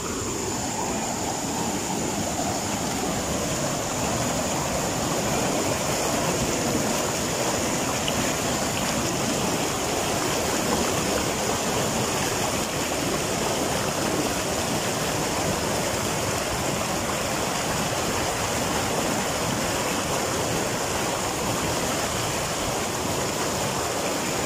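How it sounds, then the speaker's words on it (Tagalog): Powerful rushing water from strong waves, heard while fishing for prawns, forms a dense, continuous roar that stays loud and close for the whole stretch without any voices. "Grabe, ang lakas ng alon."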